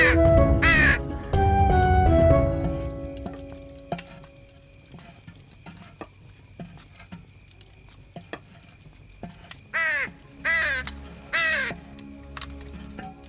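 A crow caws loudly and nearby, giving a few harsh calls followed by more spaced caws, with light patter and insect-like ambience between them.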